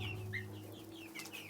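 Young speckled Sussex chicks make soft repeated peeping and clucking calls, close by over a steady low hum.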